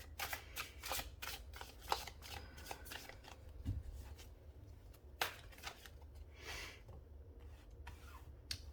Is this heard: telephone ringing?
no